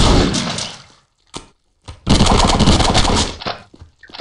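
Gunfire in the video game Postal 2 comes as loud close bursts, a long rapid volley, a brief single crack, then another sustained volley trailing into scattered shots.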